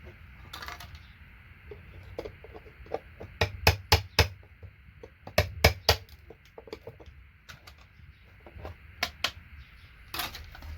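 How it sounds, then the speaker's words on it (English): Irregular metallic strikes of a hammer on a chisel, sharp ringing taps in clusters while scrapping SMD resistors from e-waste, close by with a low hum underneath. "Chisel and hammer always end up being quickest."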